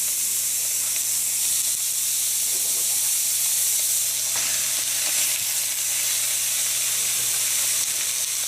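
Hamburger patties searing in a hot cast iron skillet on a stovetop, a loud, steady sizzle and hiss that continues unbroken up close with no talking.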